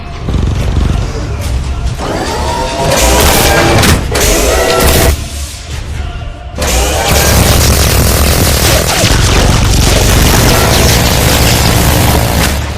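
Artillery shells strike and explode on targets in an animated film, heavy rumbling booms and crashes layered with debris, loud and close, with a brief lull before the blasts surge again.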